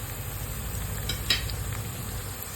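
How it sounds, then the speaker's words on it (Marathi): Potato pieces fry in a pan for Navratri sabudana khichdi, giving a soft continuous sizzle with a light stir and faint clink near the middle. "आपला बटाटा मस्तपैकी फ्राय झालेला आहे शिजलेला आहे पूर्णपणे"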